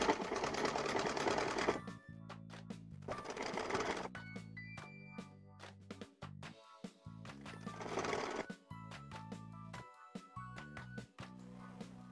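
Sewing machine stitching a suit sleeve, with two fast continuous runs separated by quieter stretches of slow, uneven individual needle clicks and handling noises, heard fairly faint and close.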